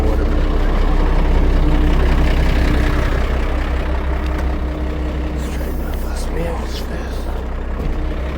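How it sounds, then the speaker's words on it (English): A truck engine runs loud and steady at close range, low rumbling throughout as the truck creeps forward at a blasting pit, with a faint hiss near the end. "I need to move the truck forward a bit."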